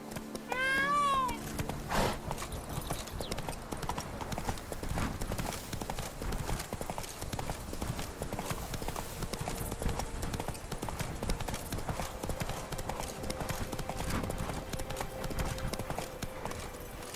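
Geralt's horse Roach galloping in The Witcher 3: Blood and Wine, a rapid, continuous clatter of hooves. A short whinny comes near the start, and the gallop is joined by steady background rumble.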